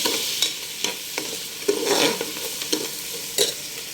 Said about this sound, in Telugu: పచ్చిమిరపకాయలు కూడా వేసేసుకోవాలి. బాగా కలిపి పెట్టుకోవాలి ఎర్ర వేగిన దాకా